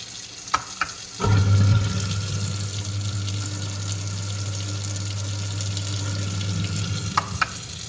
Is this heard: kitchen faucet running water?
yes